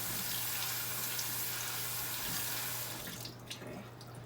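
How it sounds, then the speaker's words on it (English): Cool tap water pours steadily into a kitchen sink to rinse food, a close, even rushing stream that eases off near the end, with no voices over it. "I'm going to use cool water here at the sink, and I'm just going to rinse them"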